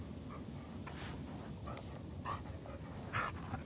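A dog in the horror video game Blair Witch gives soft whimpers and short yips scattered over steady low rumbling ambience, fairly faint and without speech.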